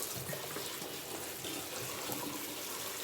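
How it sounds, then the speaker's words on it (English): Spinach is rinsed under a running kitchen tap, a soft steady stream of water splashing in the sink at low level with no one talking. "Get that all nice and rinsed off."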